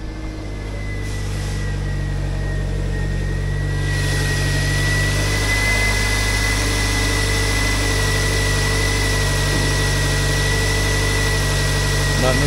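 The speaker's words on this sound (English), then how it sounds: "Let you listen to that motor run." A 2000 Toyota MR2 engine idling at an auto wrecking yard gives a steady, even mid-pitched hum that continues close and unbroken throughout.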